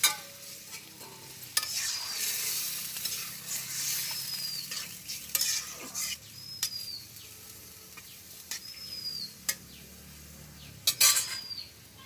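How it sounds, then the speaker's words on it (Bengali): Kochur loti (taro stolon) curry frying in a pan after water is added. A steady sizzling hiss continues while a spoon repeatedly scrapes and clinks against the pan, close and clear. "তো এখন জল দিয়ে দেবো।"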